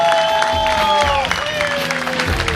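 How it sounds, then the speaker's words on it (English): A comedy club audience at the Loonybin applauds a comedian, a continuous wash of clapping and crowd noise with some cheering, while sustained musical tones play over it. "Please, a big round of applause for Quinn Patterson."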